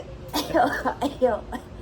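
A person coughs several times in quick succession, close and fairly loud, a short hacking burst.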